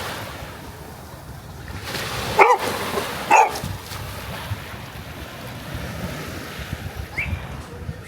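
A golden retriever named Sammy barks on a beach, two or three sharp, loud barks against a constant roar of wind and surf, followed later by a fainter single bark.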